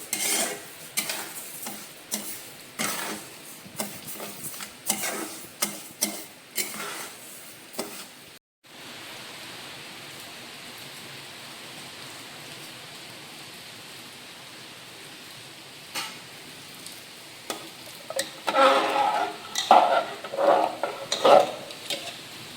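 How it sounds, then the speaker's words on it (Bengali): Lentils and rice lightly frying for khichuri in a pan, with repeated stirring scrapes and soft sizzle in the first half, then a steady low frying hiss and a few louder clattering stirs near the end. "ডাল চালটা হালকা করে একটু ভেজে নিচ্ছি"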